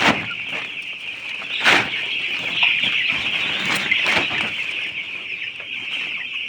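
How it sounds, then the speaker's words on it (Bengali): Chickens cluck and squawk close by on a farm, with a steady high-pitched chorus of hens and a few sharp louder calls standing out, no speech over it. "এখন একটু মনে হয় যে জায়গায় মুরগি আছে"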